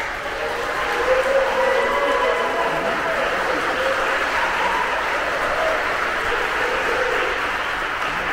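Wedding guests at a church ceremony applaud the newlyweds with a steady, dense round of clapping that fills the room and holds evenly to the end.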